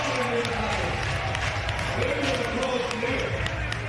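A hometown crowd cheers a skateboarder during a park final at a British national skateboarding championship, a steady broadband roar of voices under continuous commentary.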